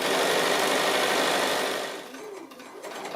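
A sewing machine stitches quilt binding with a loud, steady close motor whirr that eases off after about two seconds.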